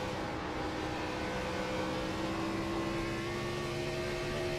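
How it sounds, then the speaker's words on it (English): Gen 4 race car engine in a racing video game, a steady sustained high-RPM drone with a smooth whine held throughout, loud and unbroken with no talk over it. "Nothing sounds quite like that Gen 4, especially when it gets up in the higher RPM range."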